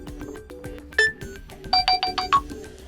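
A Nokia XR20 phone's default alarm: a short electronic melody of bright ringing tones, a quick rising and repeating pattern, clear and close with no talk.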